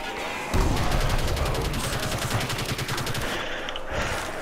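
Rapid automatic gunfire from a weak gun in the Custom Zombies game on the Asgard map, a dense burst of evenly spaced shots lasting about three seconds, loud and close, followed by quieter game noise.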